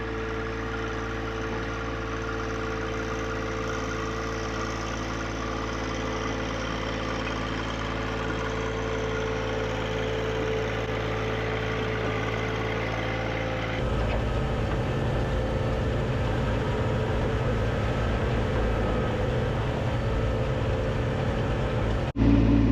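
A John Deere 25 horsepower tractor engine runs steadily with a low droning hum, shifting to a rougher, heavier throttle partway through, continuous and close with no talking.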